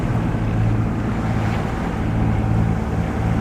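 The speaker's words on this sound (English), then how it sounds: "I'm sailing through some very confused seas" A sailboat pushes through confused, choppy swells on the Kattegat off Denmark, a steady rushing wash of water and wind noise that holds close and loud the whole time, with no voices.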